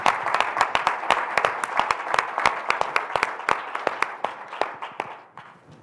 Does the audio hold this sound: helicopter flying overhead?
no